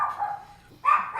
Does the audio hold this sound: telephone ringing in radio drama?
no